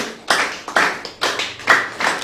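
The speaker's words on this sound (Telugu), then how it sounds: "మరొకసారి క్లాప్స్ కొడుతూ" Audience clapping at a spiritual talk comes through as about six sharp, close claps in an uneven rhythm, each one dying away quickly.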